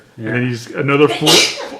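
A single quick sneeze bursts out close by at a table where trading cards are being sorted, cutting into ongoing conversation.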